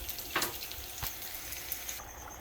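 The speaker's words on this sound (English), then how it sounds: "So when it starts boiling like that, you want to pop the lid on it." Seasoning liquid for sausage and bacon fried rice bubbling and sizzling in a hot pan, a steady close hiss with a few brief louder spits and stirring clatters.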